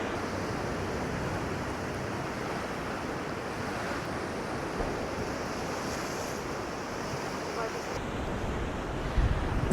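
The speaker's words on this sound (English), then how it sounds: "The surf is up over here on Tora Beach in Paguera." Ocean surf rolls onto Tora Beach in Paguera, Mallorca, as a continuous broad wash of breaking waves mixed with wind buffeting the microphone, steady and close throughout.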